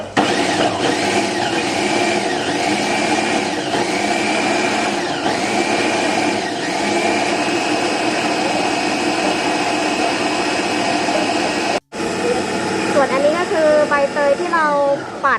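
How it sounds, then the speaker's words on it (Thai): An electric blender whirs loudly and continuously, dry-grinding pandan leaves for a long stretch with a brief pause near the end before starting again. "นี้คือการนำใบเตยมาปั่นนะคะ"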